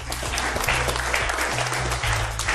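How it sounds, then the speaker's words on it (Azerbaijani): Sustained audience applause, steady and dense for its full length, with a faint voice mixed in beneath the clapping. "Alqışlayaq Ayşəmi."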